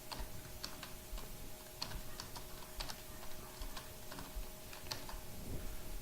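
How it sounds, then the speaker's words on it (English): Typing on a computer keyboard while entering a search term into an online keyword planning tool, a fairly quiet, irregular run of key clicks over steady background hum, with no talking. "In this section, for example, you can type internet marketing,"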